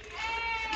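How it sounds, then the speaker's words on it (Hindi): A goat bleats in one drawn-out, wavering cry at a goat farm, close and fairly loud, lasting under a second. "ये खड़े हुए 2 बकरे और ये वाला 1 बकरा है।"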